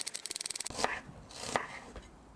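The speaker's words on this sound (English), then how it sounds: "then we're going to just thinly slice it" Knife thinly slicing an onion on a cutting board: a quick run of about a dozen even, crisp taps, followed by a few slower, separate cuts, close and clear.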